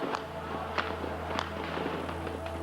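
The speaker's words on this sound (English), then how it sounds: "The noise of gunfire rose from all over the center of Peking." Sharp cracks of distant gunfire in central Beijing pop irregularly, a few sharp reports over a steady low hum and background noise.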